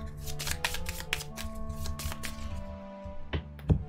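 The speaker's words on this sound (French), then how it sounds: "On remélange et je repioche une nouvelle carte." Cards from the Dune Imperium board game are shuffled up close in a quick run of crisp riffles and slides, followed by a couple of sharp taps as the deck is squared.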